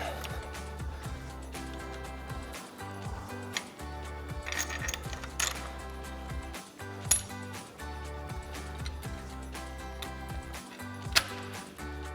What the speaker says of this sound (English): Now we can begin tightening everything down.